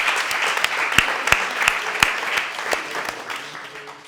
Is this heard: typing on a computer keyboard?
no